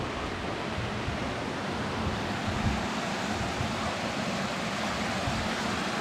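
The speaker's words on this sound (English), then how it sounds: "there is literally a creek" A creek flows inside Boulder Cave, a steady, dense rush of water that holds evenly at moderate loudness throughout with no voices.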